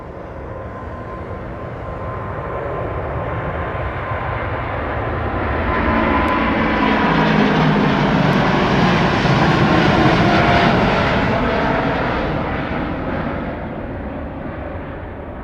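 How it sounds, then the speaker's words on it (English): Boeing Dreamlifter jet engines roar loud and broad with a buzzing fan-blade clatter, swelling to a peak midway as the aircraft passes close, then easing off, with no talk over it. "You can hear those fan blades clattering, man. It's a beautiful sound coming out of those engines"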